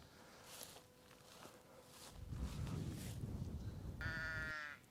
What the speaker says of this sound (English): I thought I'll show you a bit of the sheep.